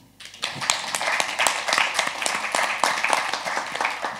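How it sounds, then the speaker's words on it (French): Warm applause from the audience for illustrator Tristan Bonnemain at a literary meeting about E.T.A. Hoffmann. Dense, even clapping rises quickly and continues steadily without voices. "qu'on peut applaudir chaleureusement"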